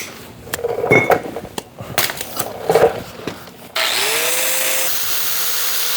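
Power tool grinding a bevel onto a steel edge before welding on a VW Rabbit pickup axle project; scattered knocks and clatter, then a loud steady whine and rasp that starts abruptly and holds close.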